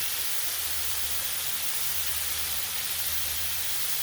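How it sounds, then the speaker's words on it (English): Steady, dense sizzling hiss of food frying on a hot Blackstone griddle set on low, continuous and even throughout with a low hum underneath; no voices. "And you see on low how sizzling it is."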